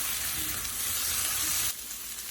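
Spices fry and are stirred in a pan while cooking eggplant with egg, giving a loud, close, steady sizzle that drops abruptly near the end.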